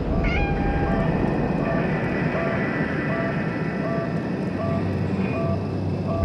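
A cat meows in the horror game Conarium, a short sequence of meows close by over a steady low rumbling ambience, with no talking.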